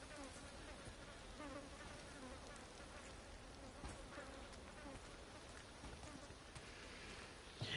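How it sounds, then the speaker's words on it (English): Insects buzzing in Resident Evil 4, a soft, steady, faint drone hanging over quiet ambient noise throughout. "What's buzzing?"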